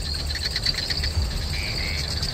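Golden tree frog calling in a Kalimantan forest, a loud, steady high-pitched trilling chorus that runs without a break under constant insect-like buzzing, close and insistent throughout.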